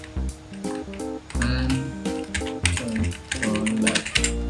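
Rapid tapping of computer keyboard keys in uneven bursts, close and clear, with no talking over the clatter.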